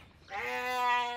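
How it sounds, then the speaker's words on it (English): A single lamb bleats close by in one sustained, wavering cry that swells and holds to the end, with no other voices. "May's brought me 2 new lambs"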